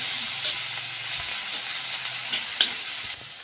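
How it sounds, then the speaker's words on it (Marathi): Chopped onion, tomato and coarsely cut coriander fry in oil in a pan with a steady, close sizzle, broken by a brief scrape or clink of a spoon stirring partway through; no voices. "आपला कांदा टमाटा मस्त भाजाय घ्या आता त्यांना टाकाने थोडीशी कोथिंबीर"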